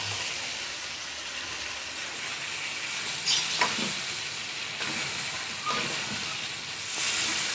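Chicken liver and gizzard sizzle in a pan while being stirred, a constant loud hiss with periodic scraping bursts from the spoon, close up and without speech.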